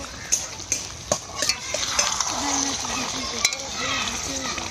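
Chicken with chopped tomato stirred in a frying pan: repeated scraping spoon strokes against the pan over a steady sizzle, with a voice talking briefly in the background.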